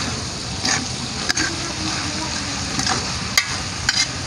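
Beef papaitan, a stew of beef innards with kamias, being stirred in a cooking pot over a steady simmering sizzle, with a few sharp clinks of the utensil against the pot and no talking.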